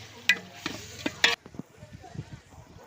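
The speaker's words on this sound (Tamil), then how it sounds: "இப்போ அந்த மிளகாத்தூள் தனியாவோட பச்சை வாசனைலாம் போகிற அளவுக்கு கொஞ்சம் நேரம் வதக்கலாம்." Chili powder and coriander powder being sautéed and stirred in a pan for chicken biryani cooked on a rooftop, with a few sharp scraping strokes followed by a soft, low sizzle.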